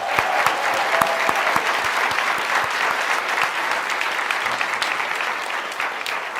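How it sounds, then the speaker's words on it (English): A large summit audience at a public health conference applauds a departing dean with loud, continuous clapping, individual sharp claps standing out near the front throughout. "let's give her a big round of applause"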